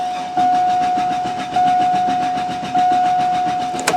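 A 2001 Chevy Silverado with a misfire cranks with the throttle held wide open and the key off for a compression test. The loud, steady starter drone carries a whining tone and surges in slow, regular pulses.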